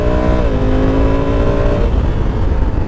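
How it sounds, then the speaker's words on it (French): Honda Africa Twin 1100 DCT on its stock exhaust under full throttle, a loud, close engine drone with steady tones that rise then shift as the bike pulls hard, with wind roar throughout and no talk. "l'échappement, même s'il est d'origine, est déjà vachement bavard"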